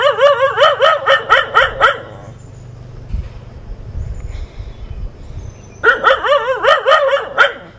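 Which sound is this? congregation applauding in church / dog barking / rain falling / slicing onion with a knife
dog barking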